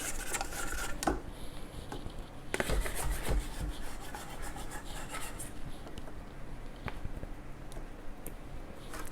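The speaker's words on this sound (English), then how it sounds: "So I'm going to scrape the sides of the bowl." A spatula scrapes the sides of a mixing bowl of wholemeal tangzhong bread dough, making repeated close rubbing and scraping strokes at an irregular rhythm over a steady background hum.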